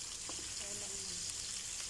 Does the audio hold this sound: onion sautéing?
yes